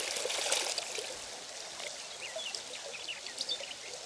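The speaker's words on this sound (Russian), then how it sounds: "Воду я беру прямо из реки." Water from a clean river trickles and pours softly as it is scooped up at a campsite, a faint, close splashing while birds chirp in the background and no one speaks.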